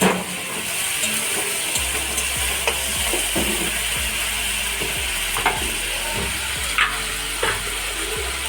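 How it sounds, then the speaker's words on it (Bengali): A spatula stirs ginger-garlic paste frying in a pan with a little water, making repeated scraping strokes at a steady rhythm over a continuous close sizzle, with no voices. "তো এইটাকে দিয়ে একটুখানি ভালো করে নেড়ে চেড়ে আর কি গন্ধটা যাতে না থাকে"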